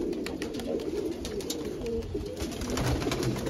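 A keeper's flock of pet pigeons coos nearby, soft throaty calls repeating over a steady background murmur.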